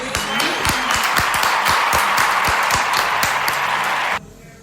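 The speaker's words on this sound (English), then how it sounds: "I think they need a round of applause right there." An audience bursts into loud, dense applause with sharp individual claps standing out, sustained for about four seconds before cutting off abruptly.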